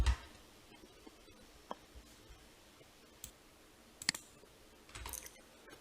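Soft, sparse clicks of a computer keyboard as a password is typed, faint and irregular, with a few slightly louder taps and no talking.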